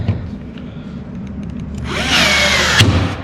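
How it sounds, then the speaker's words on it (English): A rivet gun sets 1/4 inch ProTech blind rivets through a camper roof for a solar panel mount. A steady mechanical hum swells into a loud whirring grind with a sharp snap near the end, heard up close with no voices. "So we're using 1/4 inch ProTech blind rivets."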